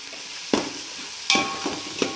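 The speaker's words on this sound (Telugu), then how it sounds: "దీన్ని బాగా రోస్ట్ చేసుకుందాం" Chilli powder and coriander powder roasting in a hot pan while being stirred for an Indian aloo matar pulao, with a few distinct scraping strokes over a soft sizzle.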